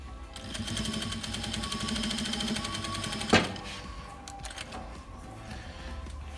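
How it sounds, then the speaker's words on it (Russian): A Jack F4 industrial sewing machine runs and stitches in a steady rapid whir, followed by a sharp click and a few quieter mechanical taps as it slows. "Все работает, все шьет."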